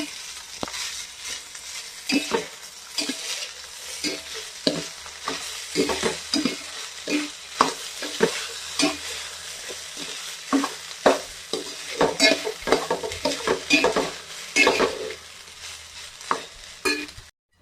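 Chitranna rice is stirred while it fries in a pan, with repeated scraping and clinking strokes of a spoon against the pan over a steady soft sizzle, close and continuous with no talk.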